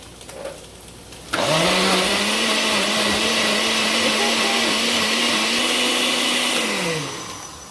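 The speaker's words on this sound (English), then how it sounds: "Let's plug in my blender." A blender switches on abruptly and whirs loudly at a steady high pitch for several seconds, then winds down; no one speaks.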